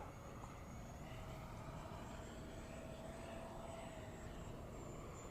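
Freewing 64mm F-14 Tomcat RC jet flying at its maiden flight, a steady distant ducted-fan whine with a thin high tone drifting in pitch, constant and moderately faint throughout, no voices.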